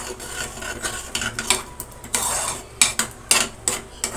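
A spoon stirs jaggery rice payasam in a metal pot, giving irregular scraping and rasping strokes with occasional clinks against the sides, close and fairly loud.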